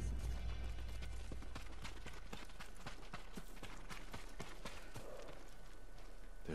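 Horse hooves clip-clop steadily at a run in the samurai-era video game Ghost of Tsushima, a rhythmic train of sharp hoof strikes over constant game ambience, with no voices.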